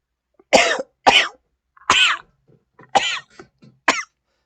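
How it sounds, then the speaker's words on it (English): Five harsh, close coughs in a row, spaced about a second apart with quiet gaps between them. "I don't know why that made me cough"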